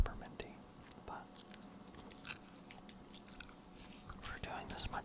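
Someone chews Orbitz peppermint gum close to the mic with soft wet smacks and squelches. A quiet whisper runs over the chewing throughout.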